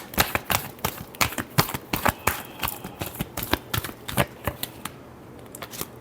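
Tarot cards are shuffled by hand in a quick run of sharp riffling snaps and slaps, close and crisp, thinning out toward the end.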